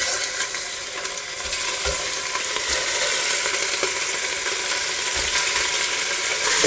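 Meat fries in melted lard in a pot, giving a loud, continuous crackling sizzle up close with occasional stirring scrapes and no talking.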